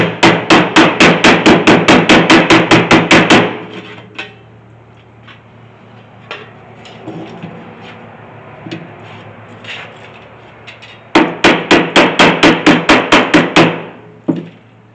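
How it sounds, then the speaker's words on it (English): Hammer and dolly striking sheet metal on a custom rollpan for a 1972 Chevy C30 dually: a loud, rapid run of sharp ringing blows, a quieter pause with a few scattered taps, then another fast burst of blows. "I'm gonna have to get a hammer and dolly and fix that."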